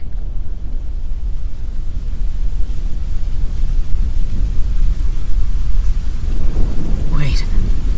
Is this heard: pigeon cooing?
no